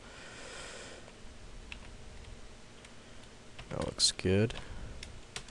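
Random numbers typed on a computer keyboard during C# programming in Visual Studio 2008, a soft scattered run of key clicks near the mic, with a brief remark spoken over it toward the end.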